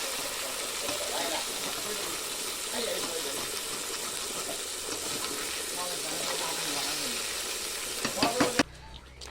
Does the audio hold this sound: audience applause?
no